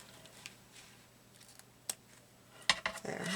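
Quiet, scattered snips of scissors through paper while making a junk journal, with a louder burst of crisp cutting near the end.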